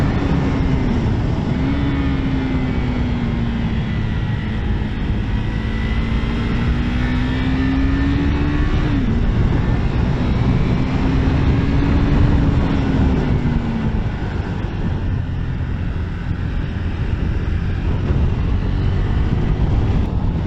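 A 2022 KTM RC390 motorcycle ridden through city streets, its engine droning steadily with rising and falling pitch as it accelerates and shifts, heavy wind rush over the microphone throughout.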